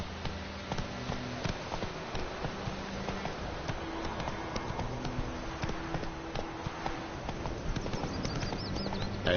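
Geralt's horse Roach gallops in The Witcher 3, a steady, rapid clip-clop of hooves, moderately close and even-paced, with no talking over it.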